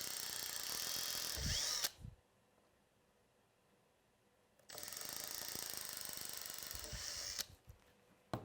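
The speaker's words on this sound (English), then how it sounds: "So we might as well do the last two screws here." A power drill drives screws into a robot bumper in two loud, close bursts of about two seconds each, separated by a quiet pause, with a short whir at the very end.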